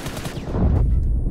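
Gunfire in PUBG Mobile bursts in a rapid cluster of sharp shots, loud and close, heavy low thump trailing into a short decay.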